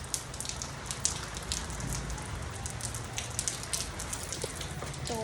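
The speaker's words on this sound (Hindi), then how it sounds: "बारिश शुरू हो गई है बहुत ज़ोरों की" Heavy rain pours steadily outdoors with little wind, a dense continuous hiss of drops striking surfaces, close and unbroken with occasional louder splashes.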